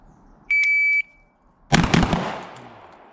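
A shooting timer gives one sharp, steady electronic start beep of about half a second, then after a short pause loud gunshots from a Zbroyar Z9 pistol-calibre carbine crack at an indoor shooting club range.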